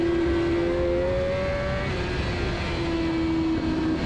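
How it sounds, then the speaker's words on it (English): A Honda CBR1000RR-R Fireblade superstock motorcycle runs on a racetrack, its engine holding a loud sustained drone that dips as the rider eases back onto the throttle, with heavy wind rush throughout and no talk. "start rolling the gas bag on"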